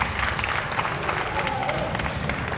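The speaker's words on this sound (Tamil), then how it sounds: "பார்த்திபன் அண்ணனை நீங்கள் எல்லாரும் பாராட்டி ஒரு கரகோஷம்" Audience clapping and crowd noise at a gathering applauding a performer, a steady wash of hand claps with some cheering, with a voice speaking over it.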